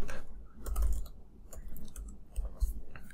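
Computer mouse and keyboard clicks while setting up an AWS Cloud9 development environment, a few soft irregular clicks and taps at close range with no talking.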